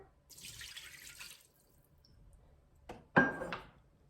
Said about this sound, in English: And then we add a cup of water.